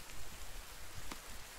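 Rain falling in the survival game The Forest, a faint, soft patter on surfaces with a few brief sharper drops, steady and quiet, no talking.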